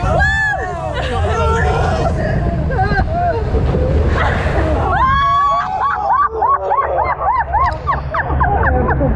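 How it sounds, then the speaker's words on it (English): A wall of water crashes over a SeaWorld water-ride boat in a loud, rushing broadband splash and spray, while riders shout and scream throughout. "That was just a wall of water."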